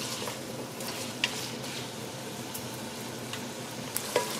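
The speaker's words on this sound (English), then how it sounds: "So I'm just gonna let this saute for a bit." Fish stock vegetables sauté in a pot with a steady, soft crackling hiss, punctuated by a few faint stirring clicks and knocks.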